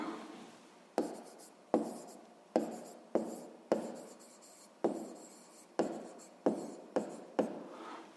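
Pen strokes on paper while working a sixth-grade math exercise, a dozen short scratchy bursts in an uneven rhythm, close and clear with no talking.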